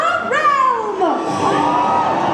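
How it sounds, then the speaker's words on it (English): Medieval dinner-tournament crowd cheering for the knights before a joust, loud whoops and shouts from an arena audience, with rising and falling yells. "My lords and ladies, raise a cheer for the Knights of the"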